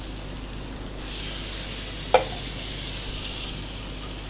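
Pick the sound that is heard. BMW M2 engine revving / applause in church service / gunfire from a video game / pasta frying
pasta frying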